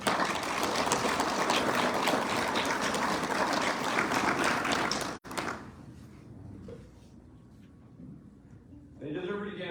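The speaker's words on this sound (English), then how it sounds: "give yourself a round of applause for that." Audience at a marathon closing ceremony and awards gives loud sustained applause that cuts off abruptly midway, followed by quieter room sound with a thud like a door and a voice coming in at the end.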